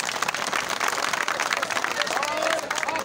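A crowd at a political rally applauds, producing a dense, continuous wash of clapping and cheering noise that stays loud and steady throughout the short burst.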